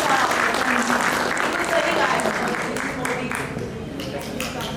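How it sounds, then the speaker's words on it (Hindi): A women's day honour ceremony audience bursts into sustained, dense applause with many hands clapping together, holding steady before easing slightly toward the end. "तालियां बजाएं।"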